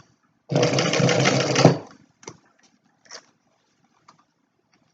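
Sewing machine stitching down the side of a structured wallet, one loud close burst of rapid stitching lasting just over a second, followed by a few faint small clicks and handling sounds.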